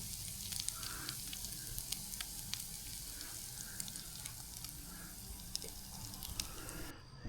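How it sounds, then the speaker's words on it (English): Steady sizzling and crackling of steak-umm meat frying in a pan at a tent campsite, a continuous hiss with small pops throughout, fairly close and unbroken. "Just sit there and sizzle a little bit"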